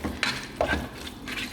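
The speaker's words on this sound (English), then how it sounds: "And stir fry the shrimps nicely so the shrimps get covered with the masala properly" Shrimp sizzles and hisses steadily in masala in a hot pan while a utensil scrapes and stirs it a few times, close up, with no talking.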